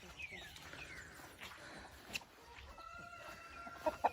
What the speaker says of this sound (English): He's a silver-laced Wyandotte. And I guess he's fighting this morning with Junior.